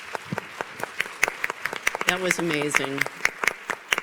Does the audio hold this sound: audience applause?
yes